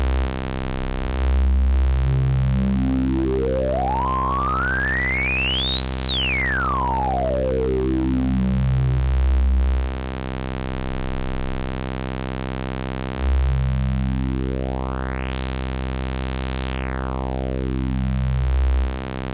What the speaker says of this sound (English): It's a band boost plus notch response.